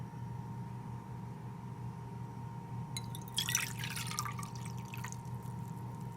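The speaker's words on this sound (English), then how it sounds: "Add a cup of water." A cup of water is poured into a pan on a low-heat stove, a short, faint splashing trickle lasting about two seconds over a steady kitchen hum.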